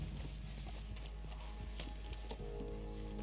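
Horse hooves clip-clop at a steady trot in the Red Dead video game, a rapid repeating patter under game music and ambience, moderately close, with no talking.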